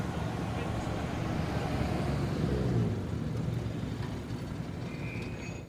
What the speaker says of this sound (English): He's keeping the engine running, understandably, just to get the coolant running round